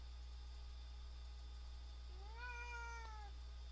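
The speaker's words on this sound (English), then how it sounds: "that's my cat in the background, wanting to go outside" A pet cat wanting to go outside gives one faint, drawn-out meow in the background over a steady electrical hum, with otherwise quiet room tone.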